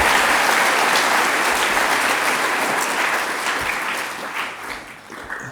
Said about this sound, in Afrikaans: Kom ons gee gou nog vir hulle lekker hande klap.